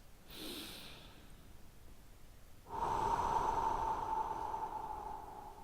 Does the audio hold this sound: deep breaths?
yes